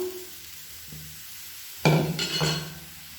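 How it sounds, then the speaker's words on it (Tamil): Rava dosa batter is poured onto a hot griddle, bursting into a sudden loud sizzle after a quiet moment, then a second hiss follows, close and without talk. "இப்போ வந்து தோசையை ஊற்றிக்கலாம்."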